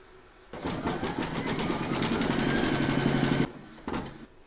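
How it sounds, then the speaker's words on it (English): Embroidery machine stitching a round on fabric held in a hoop for a Santa appliqué, a fast steady mechanical whirring for about three seconds, followed by a brief second burst. "Now going to pop your hoop into your machine and stitch round number 3"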